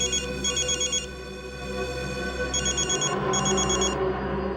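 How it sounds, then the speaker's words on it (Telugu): A phone rings with an incoming call in a tense drama scene, its electronic ringtone repeating in bursts over a low background hum, loud and near with no speech. "ఇది నిజంగానే ఇది అతనే ఫోన్ చేస్తున్నాడు."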